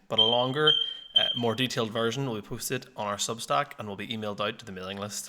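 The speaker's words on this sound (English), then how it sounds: "The whole way throughout this recording, the smoke alarm was beeping" A smoke alarm beeps faintly in the background, heard mostly at the start, under someone speaking continuously in the foreground.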